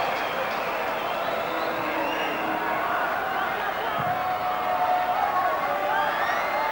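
A football stadium crowd at an Auckland Football Kingz versus Olympic Sharks match sends up a steady wall of cheering and roaring. A commentator talks over it throughout.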